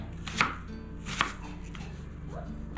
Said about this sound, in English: Alright, so onions chopped.